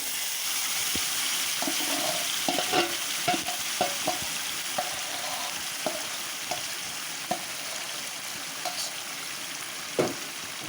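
Mutton sizzles in a pan of reddened fried onions while a spoon scrapes and stirs in irregular clinks, a steady frying hiss underneath, close and moderately loud, no talking.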